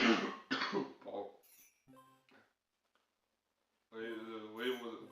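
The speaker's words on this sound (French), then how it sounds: "vous risquez de m'entendre tousser parce que je suis malade" A person who is ill coughs a few times in short dry bursts near the microphone, followed by a pause and then speech.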